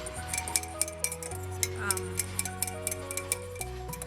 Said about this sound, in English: I'm gonna go get a fork to just kind of mix that up.